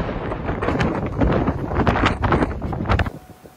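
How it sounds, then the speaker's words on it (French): Strong storm wind gusts of about 160 km/h roar loudly and continuously, a dense blustery rush with buffeting on the microphone, before dropping away abruptly near the end. "Rafale de vent à 160 km/h"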